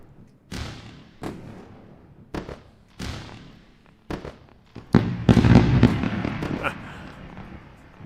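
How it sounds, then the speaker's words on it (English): Fireworks sound effect played during a live day-trading stream: a series of sharp bursts and bangs spaced about a second apart, building into a dense crackling cluster, heard alone and fairly loud. "Let me do the fireworks."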